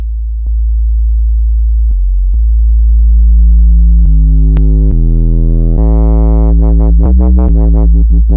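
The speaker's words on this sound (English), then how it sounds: "if it's up all the way, it's a bunch of distortion and it really changes the sound" A deep Ableton Operator synth sub bass plays sustained low notes that grow buzzier and more harmonically rich as Saturator distortion is pushed harder, loud and alone.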